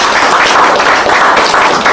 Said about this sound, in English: Governor with a round of applause